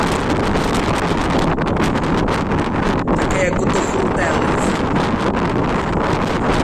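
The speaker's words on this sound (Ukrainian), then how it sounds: "Скажений вітер." Strong wind on a house rooftop buffets the microphone in a constant loud roar, with a person speaking briefly over the gusts.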